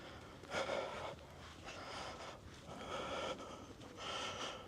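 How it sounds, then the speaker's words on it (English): Heavy, labored breathing from a hiker climbing uphill on a rural footpath in England, with rhythmic gasping inhales and exhales close to the microphone and no talking. "I'm sure the heavy breathing has picked up."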